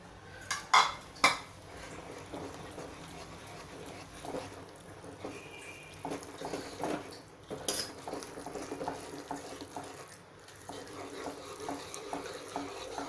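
A spoon scrapes and knocks against a pot as flour is stirred into boiling water, with a few sharp clinks near the start and then quieter, irregular mixing sounds.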